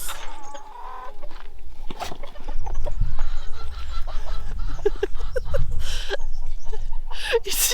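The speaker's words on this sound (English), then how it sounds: "You see how many cockerels we have?" Chickens and many cockerels cluck and squawk close by in a busy morning farmyard at a French chateau, with a low rumble of movement underneath and voices now and then.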